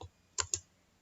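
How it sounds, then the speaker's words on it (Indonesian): Two crisp keystrokes tap close by on a computer keyboard while a MySQL command is typed at a command prompt, quick and isolated against near silence. "kita ketikkan perintah select"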